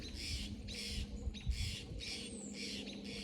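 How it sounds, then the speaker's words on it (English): A crow caws noisily in a garden, about six harsh squawks in a regular rhythm, each roughly half a second long, heard from some distance against a low background hum. "That crow is very noisy."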